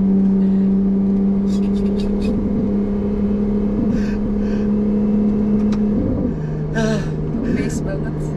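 A Ferrari 296 GTB hybrid accelerates loud and close, its engine note climbing steadily and then shifting around six seconds, with voices talking over the drive.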